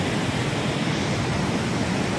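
Overflowing Terna dam sends water pouring over in a steady, loud, continuous roar of rushing water with no break and no voices.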